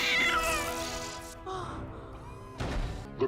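A cat meows in a Doctor Who episode, giving a few drawn-out, wavering cries with a mournful, caterwauling tone, followed by a soft thump near the end.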